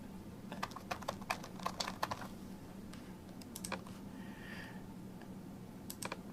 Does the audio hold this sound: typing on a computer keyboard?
yes